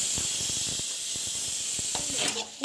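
Onions sauté in a pan, giving a steady close hiss of sizzling with soft rhythmic stirring ticks and a clatter near the end.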